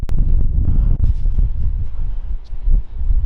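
Strong gusting wind near a mountain top in Appalachia buffets the microphone with heavy, rumbling roars that swell and dip continuously, loud and close, with no voices.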